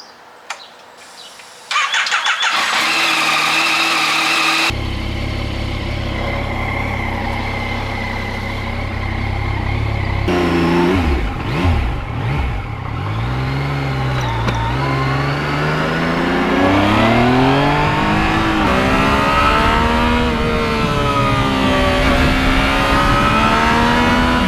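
Yamaha MT-09 motorcycle engine starting up, then idling and revving repeatedly with rising and falling pitch, loud and close, with no talking.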